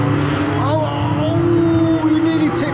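Go-kart engine noise from a virtual reality racing game at a gaming venue, a loud steady drone with rising pitch sweeps as the kart speeds up, heard under lively talk.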